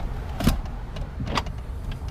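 A 2014 Toyota salvage-auction car's engine turning over and settling into a low, steady idle rumble up close, with two sharp broadband clicks or clunks punctuating it about a second apart; no talking.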